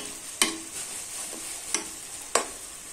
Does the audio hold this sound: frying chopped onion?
yes